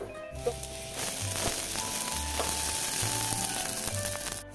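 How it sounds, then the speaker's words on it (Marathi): Amaranth seeds sizzle and crackle in a hot pan, a dense, close frying hiss sprinkled with small pops and a few sharper clicks, with no speech. "आता मी लाह्या तयार करण्यासाठी ह्या राजगिरा जो आहे तो फक्त पातेल्यात टाकणार"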